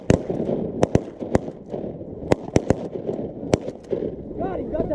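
Shotgun shots ring out during a duck hunt, several sharp separate blasts at irregular intervals over a murmur of voices, with people talking throughout.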